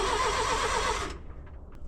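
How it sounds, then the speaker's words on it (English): A tractor engine cranking and trying to start without starting fluid, a loud steady grinding crank that cuts off abruptly partway through, followed by faint clicks. "So let's see if this tractor will start."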